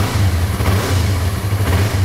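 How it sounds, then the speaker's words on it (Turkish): A Yamaha R25 motorcycle engine runs steadily and loud and close, with a low throbbing rumble and a slight rise in revs partway through, and no voices over it. "Motor çalışmaya hazır."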